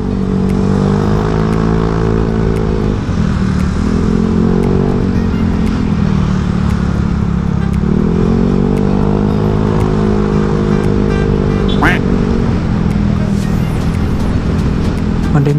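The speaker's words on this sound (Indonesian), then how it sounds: "Waduh, mobil-mobil diesel kayak ini nih." Diesel cars on a road at night in Bali, heard from a moving motorcycle: a loud, continuous engine drone that rises and dips in pitch as traffic passes, with wind and road rumble throughout.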